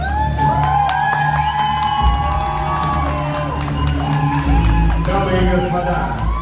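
Crowd noise at a 65th jubilee celebration for Malika Kalantarova, with loud, continuous cheering, whoops and shouts. Clapping is not clearly separable, and music or speech runs underneath throughout.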